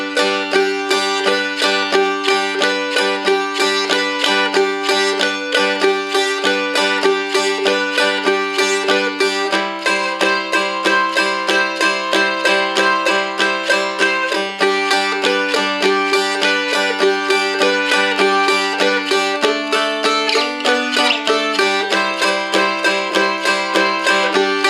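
A Seagull Merlin dulcimer, a Godin M4 spruce strumstick in G D G tuning, strums a 12-bar blues with bright, steady rhythmic strokes and changing chords, close and alone.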